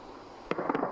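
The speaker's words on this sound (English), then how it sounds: "Just being treated to a free firework display going off behind me over there." Distant fireworks burst over a nearby village on a winter night in the woods: a faint sharp crack followed by a quick string of crackling pops.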